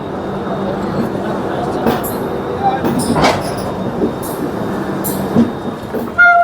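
Passenger train approaching on the line near Kanpur Central, a steady broad rumble of wheels and carriages with faint clanks and a brief high squeal, heard from aboard another moving train.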